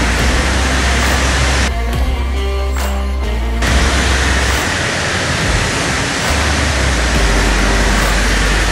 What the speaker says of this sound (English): Take the pressure washer and I'm gonna do a first rinse off.